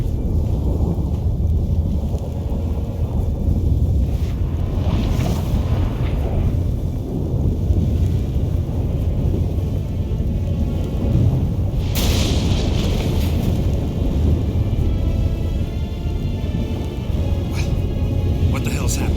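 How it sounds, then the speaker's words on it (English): Stormy weather in the video game The Witcher 3, with a constant low rumble of wind and distant thunder and a couple of brighter bursts, steady and loud throughout. "That a storm?"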